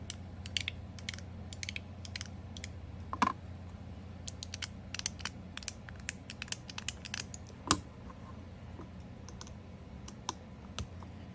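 Top-B bubble fidget toy clicks in quick irregular bursts of sharp, close, crisp taps over a quiet background hum, with a few louder clacks standing out.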